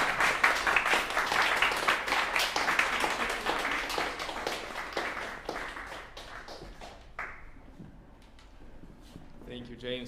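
Audience applause for a pianist at a salon concert in New York, a sustained wash of many hands clapping that gradually thins and fades toward the end.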